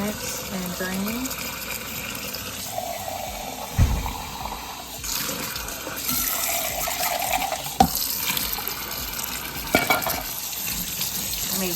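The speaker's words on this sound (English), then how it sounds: "We have our can of black beans that I'm gonna rinse and drain." Tap water runs steadily over canned black beans being rinsed in a sink, splashing and gurgling with a few sharp knocks of the can or colander.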